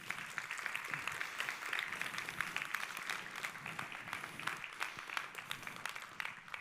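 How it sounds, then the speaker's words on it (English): Clapping from an audience thanking a speaker at a quantum computing talk, a steady, moderately loud ovation with many hands clapping together throughout. "Let's give him another round of applause."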